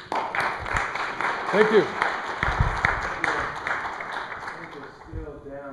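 A symposium audience gives a brief burst of clapping as a speaker hands over the stage, and voices talk over and after the applause in a hall.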